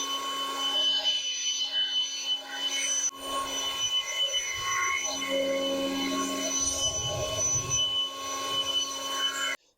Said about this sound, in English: then we'll use the blower